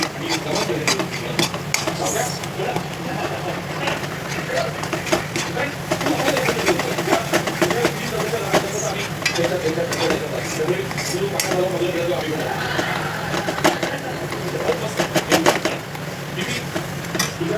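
Thick mango barfi mixture stirred steadily in a pan, with continuous scraping and soft sizzling, clinks of the spoon against the metal, and occasional speech over it.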